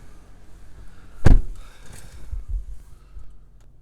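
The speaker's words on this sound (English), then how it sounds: "So, let me close the door actually." A car door on a 2019 Audi Q8 50 TDI Vorsprung quattro swings shut with one loud, solid thump partway through, followed by a quieter cabin settling sound.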